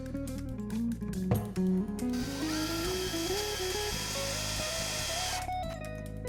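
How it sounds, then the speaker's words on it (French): A power drill bores holes near the edge of a kitchen cabinet filler panel during wall cabinet installation, a close, steady whirring drone with a rising motor pitch and brief clatter at the start, no speech. "Perce 2 trous à 9 mm du bord du meuble"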